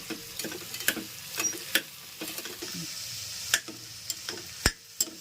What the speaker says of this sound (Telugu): పసుపు వేసి కొంచెం బాగా కలుపుకుందాం